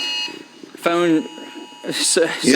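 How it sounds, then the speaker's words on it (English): Alert tones beep repeatedly through a TV weather studio during a tornado warning, sounding as a short buzzy tonal burst and stacked electronic tones under a presenter's ongoing speech. "I'm sure you can hear all the beeping going on in the studio right now."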